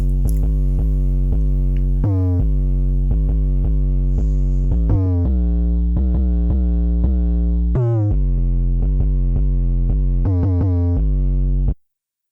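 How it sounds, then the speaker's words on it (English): A Mira Console 808 bass sound in FL Studio plays a basic, deep bass line for an 80s-inspired beat, with repeated sustained notes in a steady rhythm, loud and alone, ending with a sudden cutoff. "this is the Mira Console 808"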